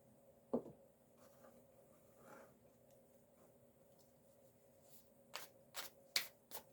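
Tarot cards are shuffled by hand in a quiet room, soft riffling with a few sharper snaps and slaps near the end, close and faint.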